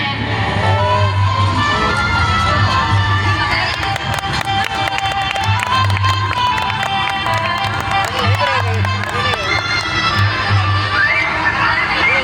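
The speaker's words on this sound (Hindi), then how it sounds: "अरे बाप रे, कैसी भीड़ है, कैसी कैसी भीड़।" A large, dense festival crowd fills the space with steady loud murmuring, chatter and scattered shouts, with music and voices blending throughout and no pause.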